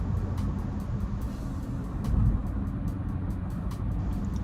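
A 2022 Honda Civic Si with a six-speed manual cruises in fifth gear, giving a steady low engine and road drone heard from inside the cabin, with faint ticking above it and no voices.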